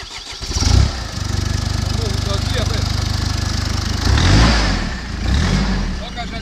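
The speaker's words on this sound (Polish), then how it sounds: "O, silnik chodzi wzorcowo." A car engine with a freshly replaced clutch and pressure plate runs nearby at a steady, loud idle, then revs up briefly twice toward the end.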